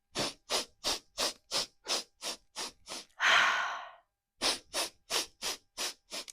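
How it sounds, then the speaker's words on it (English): Rapid, rhythmic breaths during a breathing exercise, short sharp inhales through the nose in a steady series, broken once by a long forceful exhale through the mouth, then the quick nasal sniffs resume; close and alone, no talk. "breathe in through the nose, fast, a lot, and breathe out through the mouth"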